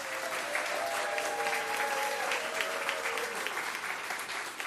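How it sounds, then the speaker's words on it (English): Audience applause at a community meeting carries on for several seconds as dense, steady clapping, with a few faint voices mixed in beneath it. "I wish I got that kind of applause"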